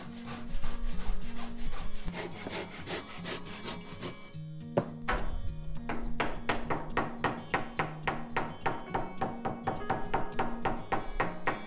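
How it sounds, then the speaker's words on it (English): A hand saw cuts a deep notch into a wooden floorboard during house floor installation, first a dense rasping stretch and then a steady run of quick, regular strokes, close and clear with no talk. "Cut out a deep notch to enable the floorboards to slide after setting it."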